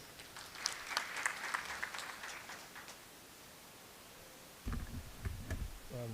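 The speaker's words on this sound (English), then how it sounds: "Please welcome Dr. James Gashancha with a round of applause." A round of applause greets a speaker at a government budget meeting on the 2026/2027 Medium Term Expenditure Framework, clapping moderately for about three seconds before fading to near silence, followed by faint room noise and a voice.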